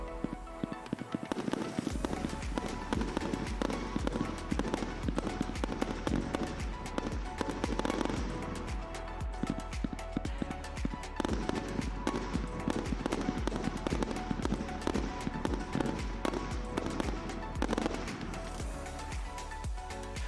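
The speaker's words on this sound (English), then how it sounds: "Camoro Rainbow fires 100 shots over the course of its 45-second duration and breaks with red, lemon, purple and blue stars with matching mines." A Camoro Rainbow compound firework cake firing 100 shots in rapid succession, with a dense, continuous crackle of launches and breaks with no pause, loud and steady throughout.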